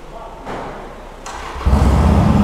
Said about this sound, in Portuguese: Deixa eu ligar a moto.